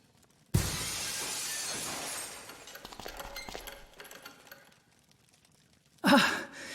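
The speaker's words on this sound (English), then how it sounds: "let's cross our fingers that the seat cover absorbs the noise of the breaking glass" Glass shatters in one sharp burst and then scatters into a settling crackle, followed by a second, quick crash a few seconds later, muffled by a seat cover in the adventure game Dead Synchronicity: Tomorrow Comes Today.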